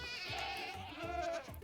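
Two screaming goats in a video game give drawn-out, wavering bleats that rise and fall, loud and close with nothing else around them.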